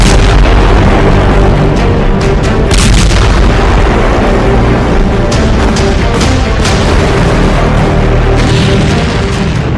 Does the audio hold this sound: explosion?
yes